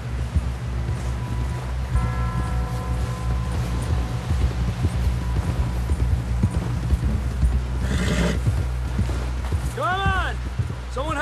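Horse hooves clip-clop steadily in the video game Red Dead Redemption 2, a rhythmic clatter under continuous talking, with a brief neigh and whooshing sounds near the end.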